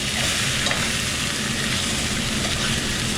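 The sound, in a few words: chicken thighs searing in a hot pan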